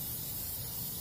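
Plasti Dip aerosol can spraying in one steady, close hiss with no break, no voices present.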